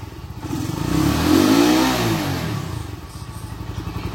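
A Kawasaki Rouser NS 125fi motorcycle engine revs up close and loud, rising toward redline and then easing back to a rough, steady run.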